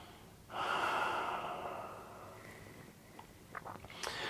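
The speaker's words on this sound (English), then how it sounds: "Big inhale, slow exhale." Deep breath during a yoga practice: one long, loud inhale through the nose, then a slower, softer exhale trailing off with a few faint rustles at the end, close and alone.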